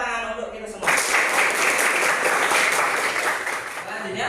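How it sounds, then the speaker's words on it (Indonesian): A classroom group breaks into applause. A brief voice comes first, then dense, steady clapping starts abruptly and carries on for several seconds. "ya, tepuk tangan untuk kita semua"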